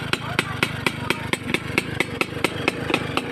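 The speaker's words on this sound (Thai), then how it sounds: "เครื่องดีมาก ทีเดียวติดแล้วครับ จอดนานนะฮะ แต่ก็ติดง่าย ๆเลยครับ" A Honda Nova R motorcycle engine runs after starting, a close two-stroke putter with regular sharp pulses, steady throughout the short clip.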